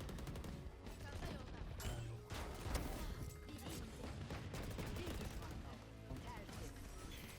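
Dense, loud bursts of gunfire in the tactical shooter Valorant, rapid shots and impacts layered almost continuously, with players talking over the action.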